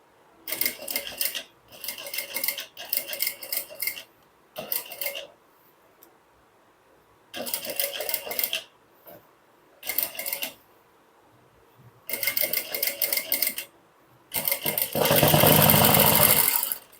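A sewing machine stitching cloth without a presser foot, running in repeated short close bursts of rapid mechanical whirring separated by quiet pauses, ending in a longer, louder run.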